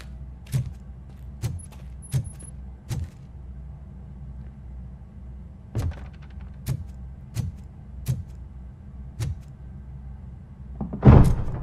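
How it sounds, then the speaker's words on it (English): A door opening in the RoboCop: Rogue City video game, heard as a series of sharp clicks and clanks spaced through a low ambient hum, ending in a louder, fuller mechanical rattle. "Now let me get that door open for you."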